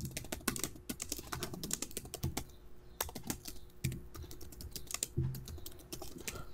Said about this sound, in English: I'm just typing some random text here.